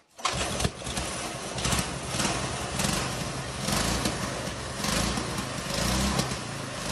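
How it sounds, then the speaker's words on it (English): A small lawnmower-type engine fitted with hydrogen injection into the fuel tank catches and keeps running with a loud, steady buzzing roar and repeated revving surges, close up and without talk. "Look at this baby start. Probably a type of lawnmower engine."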